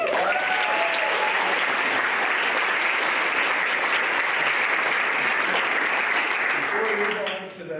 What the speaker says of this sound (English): Good applause for that.